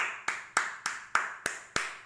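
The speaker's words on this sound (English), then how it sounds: "I would like to give a big round of applause for the parents" Steady applause for parents and kids, a small group clapping in a slow, even rhythm of about seven distinct claps, close and moderately loud.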